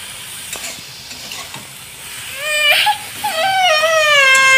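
Chicken momo filling fries in a pan and is stirred, giving a low sizzle with light scraping. In the second half, a loud wavering high-pitched whine rises over it.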